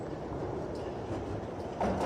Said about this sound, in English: a few minutes later her train rattled